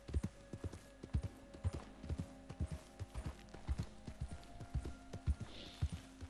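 Steady horse hooves clip-clop in an even, quick rhythm in the video game Red Dead Redemption II, fairly faint with a soft ambient hum underneath and no voices.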